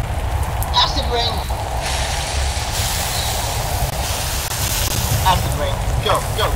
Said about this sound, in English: Acid rain!